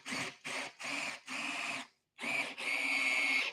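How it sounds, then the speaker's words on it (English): A Sun Joe power drill whines at high speed while boring into wood in short repeated bursts, then a longer sustained run with a steady high-pitched tone, close and loud. "I can kick this into high speed. We can see if that cuts any faster through this."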